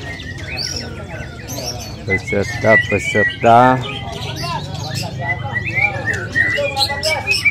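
White-rumped shama (murai) birds sing at a bird-song contest in Singkil, with bright chirps and trills mixed with someone talking and crowd noise.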